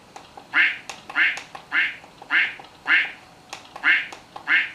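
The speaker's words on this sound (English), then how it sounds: "Good and old quack." Quack alert sound from an Apple PowerBook 3400c laptop, repeated eight times at an even, steady rhythm, each quack clear and fairly loud with brief gaps between.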